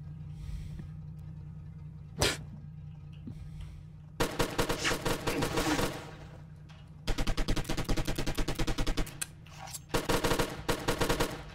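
Gunfire in a co-op video game: bursts of rapid machine-gun fire, loud and close, come in several long volleys with short gaps between them, after a single earlier shot.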